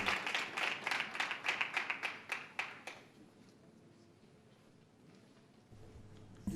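A board of education meeting audience claps in a short round of applause, crisp overlapping claps for about three seconds before fading into quiet room noise.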